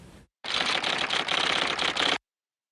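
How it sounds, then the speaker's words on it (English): Typewriters clattering in a dense, rapid burst of keystrikes that runs for nearly two seconds after a short earlier flurry, then stops abruptly into silence. "The clatter of typewriters in the Bendlerstrasse came to a halt"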